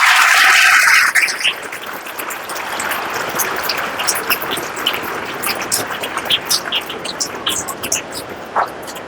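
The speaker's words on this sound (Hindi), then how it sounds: "आप के लिए तालियां बजाइए आप।" An audience at a spoken talk breaks into sustained applause, a dense wash of clapping that stays loud and steady for several seconds and then thins into scattered claps.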